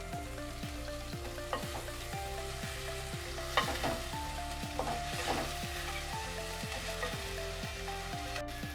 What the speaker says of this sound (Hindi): बस 2 मिनट तक इसको इसके अंदर, इस ऑयल के अंदर मुझे पकाना है।